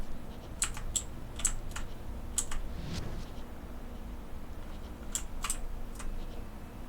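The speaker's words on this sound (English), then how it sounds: "It sounds like a ballpoint pen scribbling away on a sheet of paper." Video game sound effect resembling a ballpoint pen scribbling on paper: a series of quick, sharp scratchy ticks in uneven bursts, close and fairly quiet over a low background hum, with no talking.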